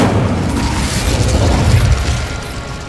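In Hogwarts Legacy, the Incendio fire spell is cast with a heavy whooshing burst, a loud, rumbling flare of flame that holds steady and then tapers off slightly toward the end.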